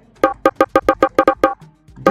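A bongo sample played on a Virtual DJ pad gives about ten rapid, evenly spaced, bright hand-drum hits in a steady roll, then a brief pause and one more hit, with no talking.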